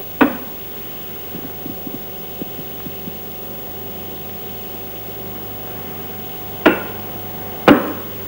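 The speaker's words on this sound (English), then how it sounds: "Now I switch on the alternating current." A large induction coil apparatus with magnets humming steadily once alternating current is switched on, a constant low electrical drone with a sharp clunk at the start and two more near the end.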